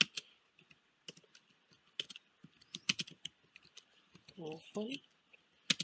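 Computer keyboard typing in an e-office application while entering a note for approval, scattered key clicks in short bursts, close and fairly quiet, with someone speaking in between.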